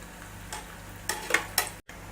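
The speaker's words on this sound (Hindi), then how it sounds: "मैंने यहाँ 3 पेटीज को फ्राई करने के लिए डाला है" Three farali patties fry in a pan with a low, steady sizzle, broken by a few soft stirring or utensil scrapes close by.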